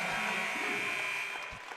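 A loud electric game-clock buzzer sounds continuously through a crowded high school JV basketball gym, Balko against Woodward, marking the end of the first quarter after a layup; the steady buzz fades slightly toward the end.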